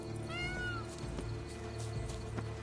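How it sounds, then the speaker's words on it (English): A cat meows in The Witcher 3, a rising, drawn-out call over a quiet game backdrop with a low ambient hum, followed by faint clicks and soft background noise. "Is that a cat?"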